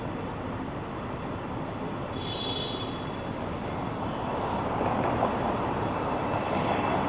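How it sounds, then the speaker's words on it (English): A Boston Green Line light rail train, Type 7 car in front, rumbles past nearby, a continuous broad roar with brief squealing tones from the wheels, and nobody speaks. "There goes the Green Line train"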